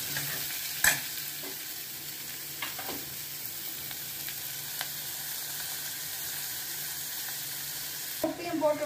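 Onions sautéing in a pan for mung dal tadka, a soft, low sizzle with a few light clinks of stirring and a louder scrape near the end.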